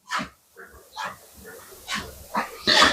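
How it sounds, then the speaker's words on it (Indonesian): A dog gives a series of short, sharp barks and yips, about seven bursts spaced irregularly, close by. The final bark is the loudest and highest. "Kapok Nopi Gonggong kayaknya"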